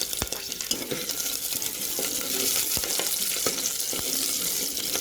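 Chopped green chillies fry in hot oil in a pot for chickpea pulao, a loud, continuous close sizzle with small crackles and stirring clicks throughout.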